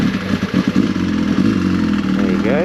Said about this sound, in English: I've missed that raw rumble of this bike.